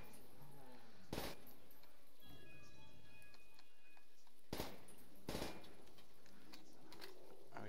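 Gunshots hitting helmets in a Call of Duty custom Zombies map, Aranda: three sharp, separate shots spaced across several seconds over a quiet ambient bed with faint tonal game sounds.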